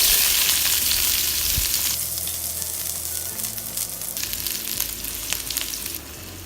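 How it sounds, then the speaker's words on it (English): Onion slices frying in oil over medium heat, a loud continuous close sizzle with crackling that eases slightly partway through and carries on steadily on its own. "heat the oil over medium heat and cook onion slices until lightly golden"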